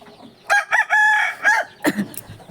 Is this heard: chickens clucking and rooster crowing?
yes